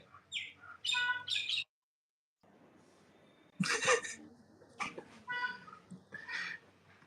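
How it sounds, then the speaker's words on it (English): Birds chirp and squawk outdoors in close, intermittent bursts, with short pauses and a faint background hum, no talking. "the birds are louder there than they are here"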